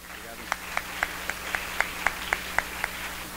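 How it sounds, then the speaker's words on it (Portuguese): An audience at a conference panel on sustainable sewage treatment technologies claps in a light, steady rhythm, a dozen or so distinct claps heard from a distance over a faint room hum. "Uma salva de palmas para Cleverson Andreoli, do ISAE."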